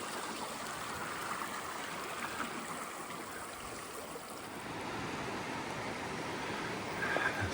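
The Grose River runs beside a bushwalking track, a steady rushing and gurgling of flowing water, fairly close and continuous, with no voices.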